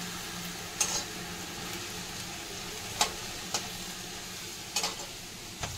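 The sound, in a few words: potatoes frying in a pan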